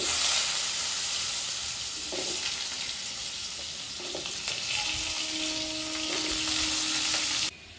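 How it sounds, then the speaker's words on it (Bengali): Potatoes frying in a pan, cooked after pointed gourd for a gourd and prawn dish: a steady, fairly quiet sizzle with occasional stirring clinks, running alone before cutting off near the end. "দিয়ে দেবো আলুগুলোকে আমি ভেজে নেব।"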